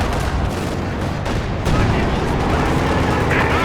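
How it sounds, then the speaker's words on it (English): Artillery barrage in Company of Heroes 2, a dense, continuous roll of booms and gunfire that swells louder partway through, with a commentator talking over it. "artillery barrage coming in has been laid down"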